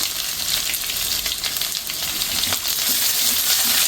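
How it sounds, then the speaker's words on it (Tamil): Chopped shallots and garlic sautéing in hot oil, a loud, steady close sizzle with fine crackling pops throughout and no talk. "அதில் எண்ணெயில் போட்டு நல்லா வதக்கணும்."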